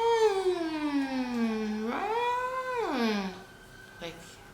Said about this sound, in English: what's that loud siren?